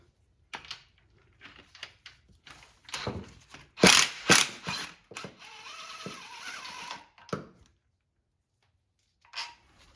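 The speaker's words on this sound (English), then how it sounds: "let's remove the last bolts" Ratchet wrench taking out the final engine bolts on a 2007-2021 Toyota Tundra during engine removal, heard as close, irregular bursts of clicking and clattering metal with brief pauses between them.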